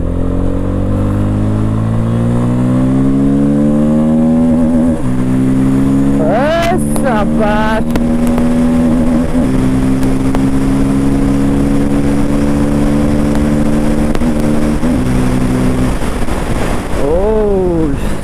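A Bajaj Pulsar F250 motorcycle engine revs loudly up close, its pitch rising and falling in several sweeps over a continuous idle rumble, with sharp throttle blips midway and at the end.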